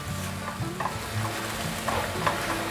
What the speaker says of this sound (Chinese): 现在快速的翻拌